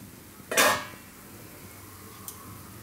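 Appe being flipped in a metal appe pan: one sharp metallic clink and scrape, then a much fainter tap a couple of seconds later in a quiet kitchen.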